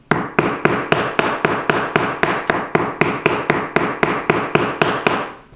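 Steady, evenly spaced hammer blows, about fifteen, strike a nylon punch to dome a metal disc, each a sharp close tap with a short ring, continuing alone without talk.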